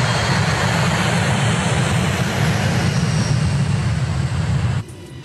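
Loud, steady airplane engine drone heard from inside the cabin in flight, a continuous low roar that drops off abruptly just before the end.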